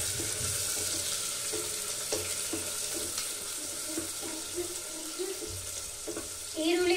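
Onions frying in a pan for egg biryani, a continuous crackling sizzle with scattered pops and faint stirring scrapes, a louder clatter near the end; no one speaks.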